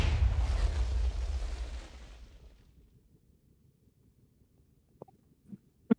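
A TNT cannon fires in Minecraft with a heavy, rumbling blast that roars for about two seconds and then fades into near silence, broken only by a few faint clicks.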